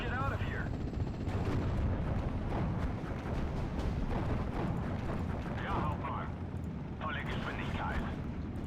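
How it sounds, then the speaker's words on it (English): Rocket artillery firing in Steel Division: Normandy, a WWII strategy game: a dense, continuous roar of launches and impacts, with a voice talking over it at moments. "Here goes the rockets."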